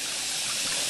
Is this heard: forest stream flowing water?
yes